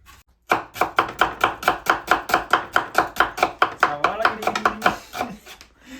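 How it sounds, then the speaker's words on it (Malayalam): Onions being chopped for beef biryani on a board, a steady run of about twenty crisp knife strikes in quick even rhythm, close and clear with no talking. "നമ്മൾ ബിരിയാണിക്കും റൈസിനും വേണ്ടിയിട്ടുള്ള ഉള്ളി അരിയാണ്"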